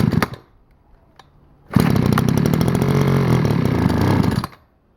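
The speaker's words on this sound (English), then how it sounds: "But now we'll start without the choke." A Stihl FS86 two-stroke string trimmer engine, under repair and started without choke, revs loudly and roughly for a few seconds after a faint pull, then cuts out abruptly to silence.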